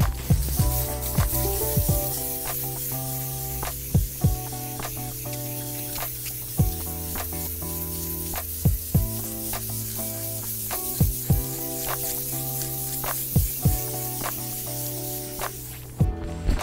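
Steady, gritty scraping hiss of sandpaper rubbing an electric guitar's wooden body in repeated strokes, with occasional sharper knocks, close up and fairly loud.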